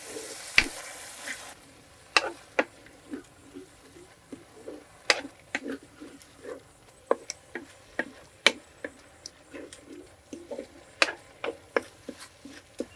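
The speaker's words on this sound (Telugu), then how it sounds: "నూనె వేడెక్కిన తర్వాత దంపి పెట్టుకున్న ఉల్లిపాయ ముద్ద వేసేసుకుందాం ఇది కొంచెం కలర్ మారే వరకు బాగా వేయించుకోవాలన్నమాట" Onion paste frying in hot oil, with soft sizzling under a steady run of sharp clicks and scrapes from a spoon stirring in the pan, close and moderately loud with no talking.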